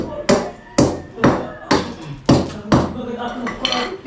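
A hammer strikes repeatedly while floor tiles are prepared for a bathroom, seven sharp metallic blows at a steady rhythm, close and loud, with a faint clink between hits.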